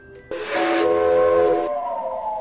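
A little steam train sounds its whistle: a sudden hissing burst of steam opens into a loud, steady multi-tone whistle that holds for over a second before easing into a fainter, sustained tone.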